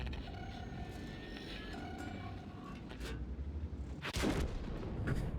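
Tank cannon fire in the World of Tanks game: a distant muffled boom lands near the end over a steady low engine rumble and background battle noise, fairly quiet overall.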